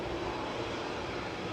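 An easyJet airliner's engine spools up on the apron at Manchester Airport, a steady, dense roar heard from a distance that holds even throughout, with no talk over it.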